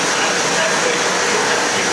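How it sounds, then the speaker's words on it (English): A vacuum cleaner runs close by, producing a steady, loud, even broadband whoosh that holds constant before cutting off abruptly at the end. "right in this moment we're gonna turn the noise up actually, which is a vacuum cleaner"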